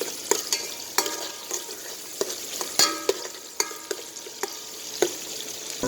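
Garlic and onion sautéing in a pan for odong noodles, with a close, crisp sizzle and repeated sharp clinks and scrapes of a utensil stirring against the pan.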